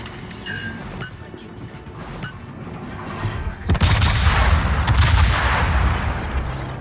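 Heavy naval guns of the Charles Martel firing at an enemy ship in a video game: a low rumble builds, then a loud booming salvo roars in about halfway through and rolls on to the end.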